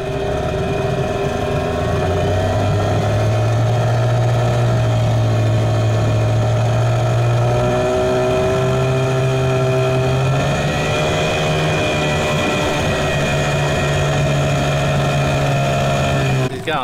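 Sailboat engine on deck running at a steady idle, close and loud for about seventeen seconds, its pitch shifting slightly partway through as the revs change.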